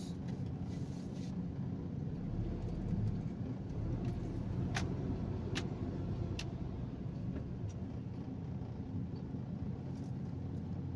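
Road traffic on a congested main road in the Karuhatan area heading toward Balintawak, a steady low rumble of passing vehicles from inside a car, with a few faint clicks and rattles.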